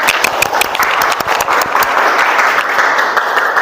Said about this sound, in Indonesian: Sekarang tepuk tangan untuk kita semuanya.